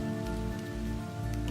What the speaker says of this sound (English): Finally, after months of drought, the first drops start falling.